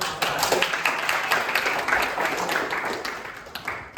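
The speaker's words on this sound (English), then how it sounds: "Okay, give a applause." Classroom applause during a microteaching practice lesson, a dense patter of many hands clapping steadily for about four seconds at moderate loudness, with no voices on top.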